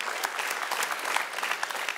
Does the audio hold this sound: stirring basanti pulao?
no